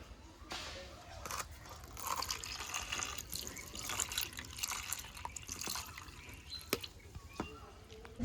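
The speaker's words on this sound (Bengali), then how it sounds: "সেই মাছের ডিমটা এখন ভালো করে ধুয়ে নেব।" Fish roe gets rinsed under running tap water, a faint continuous splashing and trickling with scattered drips and small knocks, alone and without talk.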